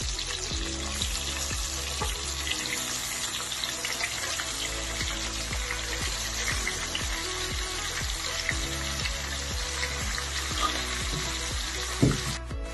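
Stuffed brinjals fry with onion and spices in a pan, a loud, steady sizzle running throughout with occasional stirring scrapes and no talking.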